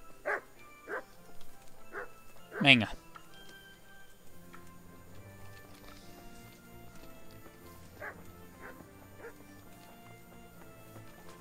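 A dog barks in the video game Kingdom Come: Deliverance, one loud burst of sharp yelps near the start followed by a few fainter yips, over a quiet background with a brief spoken word.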